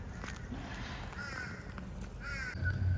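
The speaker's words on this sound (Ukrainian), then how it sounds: "Я чую ворони." Crows caw repeatedly in a video game set around a creepy hospital, calls rising over a steady low ambient rumble with faint footsteps, growing a bit louder near the end.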